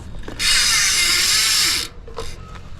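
A freshly washed bicycle on a repair stand is spun by hand, its freewheel ratchet buzzing in a loud, steady run of rapid clicks for about a second and a half, then a brief second burst.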